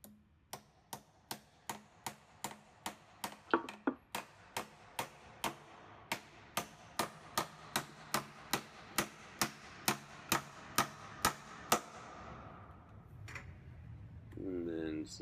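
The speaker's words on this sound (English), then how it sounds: "how to hammer nail into 3 pieces of board" Evenly spaced hammer blows driving nails through three wooden boards, about two dozen sharp strikes in a steady rhythm, then the pounding stops and a low rumble follows.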